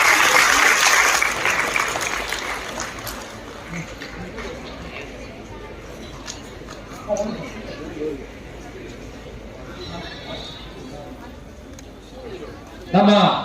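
Audience clapping at a college event bursts in loud at the start and fades over a couple of seconds, then a voice speaks over a murmuring room, with a brief burst of noise near the end.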